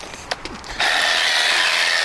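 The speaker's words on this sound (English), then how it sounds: "A little hammer drill Liam uses straight in there for a profile" A small hammer drill bores into brickwork to make a fixing hole for a profile clip. A couple of light taps come first, then a loud, steady grinding buzz starts and runs to the end.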